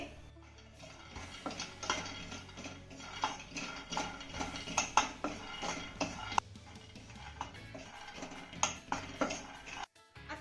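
Peanuts dry-roasting in a pan, half a bowl stirred steadily, giving dense scraping and rattling ticks with frequent clicks of a utensil against metal, close and continuous with no talking.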